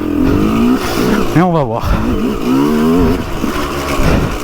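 A Sherco 125 2T two-stroke trial motorcycle revs close by, its engine note rising sharply in one quick burst and then settling back to a buzzing idle, while someone speaks over it.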